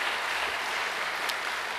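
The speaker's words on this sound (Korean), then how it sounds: "환영의 박수 한번 보내주시면 좋겠습니다" A church congregation claps in a steady, even wash of applause for a couple of seconds during a worship service, with no voices.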